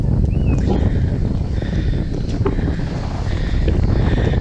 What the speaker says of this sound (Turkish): Bugün şansımıza çok esinti var